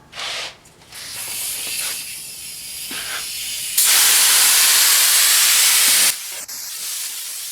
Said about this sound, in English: we just finished spraying our last coat